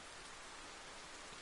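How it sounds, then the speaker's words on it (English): Rain beats against a window in the video game Worldend Syndrome, a dense, even hiss of falling water that holds steady and faint throughout, with no voices. "the sound of the rain against the window grows steadily"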